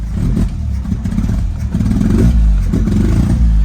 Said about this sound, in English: So this is where we are, nice idle